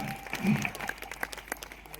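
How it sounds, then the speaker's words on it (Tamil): An audience at a Tamil debate show (pattimandram) applauds in a short, light burst of clapping, somewhat distant, with a voice briefly audible at the start. "நல்ல கைத்தட்டல் கொடுங்க அந்த தம்பி."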